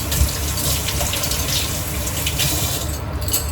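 A tap runs steadily to fill a bath, a loud close stream of gushing water that carries on unbroken, with no talking.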